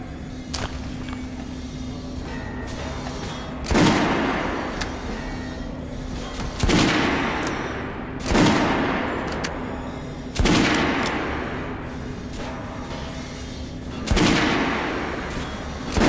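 Gunfire at a shooting range in Metro: Last Light Redux, five or six sharp, loud shots spaced a few seconds apart, each ringing out and decaying over a low steady hum.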